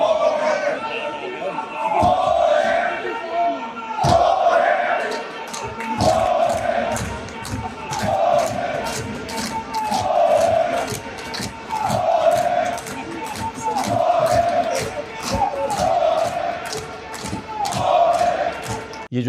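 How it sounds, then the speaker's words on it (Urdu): A crowd of legislators in the Punjab Assembly chants slogans in loud, rhythmic bursts repeating about every two seconds, with thumps and shouting voices throughout. "یہ پنجاب اسمبلی کی فوٹیج ہے، یہ ذرا دیکھیں، ذرا نعرے سن لیں"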